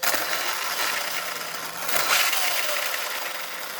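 The electric motor of an Arrma Felony RC car runs with a steady, close, high-pitched whine and buzz, holding fairly constant for several seconds with a slight swell near the middle.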